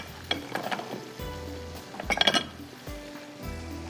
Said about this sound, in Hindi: यहाँ पर हम ज़ुकीनी को फ्राई करेंगे